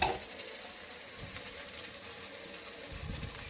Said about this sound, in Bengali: মশলাটা হয়তো কষিয়ে নিই